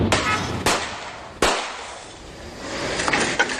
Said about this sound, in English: Those are the gunshots that rang out near an apartment complex in Kahalu'u in Kona.